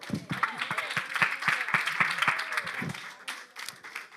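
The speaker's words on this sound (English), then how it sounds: "Let's give a hand clap to the word." A church congregation claps hands in a brief burst, distinct rhythmic claps forming a lively patter that swells and then begins to thin out.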